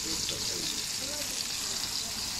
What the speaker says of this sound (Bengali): কড়াইতে সেই তেলের মধ্যে আমি আরও বেগুনের চাক দিয়ে দিচ্ছি।